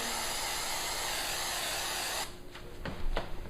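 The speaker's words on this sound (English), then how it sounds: "We're going to spray this out, getting the edges nice and sprayed." Spray adhesive hisses steadily and loudly onto a motorcycle saddlebag liner for a Victory bike, a continuous close-up spray that stops abruptly, followed by a few short bursts and light handling noise.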